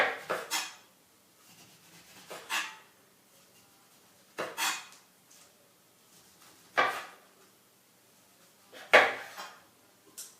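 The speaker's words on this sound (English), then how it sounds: "I quickly cut my 2 oranges, peel them" A knife cutting and peeling two oranges, heard as about six short, sharp scraping and clicking strokes spaced apart, close by and separated by quiet pauses.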